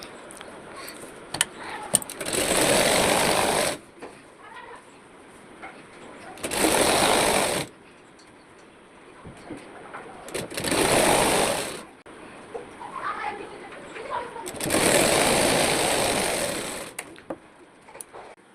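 Sewing machine stitching the hems of palazzo trousers, running in four loud bursts of steady whirring, each one to two seconds long, separated by quieter pauses filled with handling noise.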